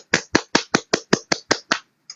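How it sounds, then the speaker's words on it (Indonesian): A single person clapping hands nine times in a quick, steady rhythm, sharp and close, followed by one softer clap after a short pause, with nothing else heard. "Jadi apresiasi dari saya adalah hanya memberikan sebuah tepuk tangan."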